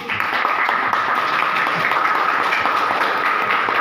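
A class group claps together in a short burst of applause, steady and fairly loud throughout, with no talking.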